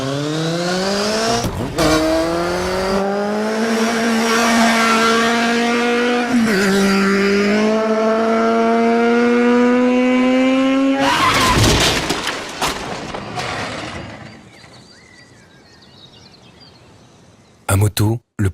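A motorcycle engine revs hard through rising gear pulls, then ends abruptly in a crash-like burst, followed by quieter rumbling and sharp clatter at the end.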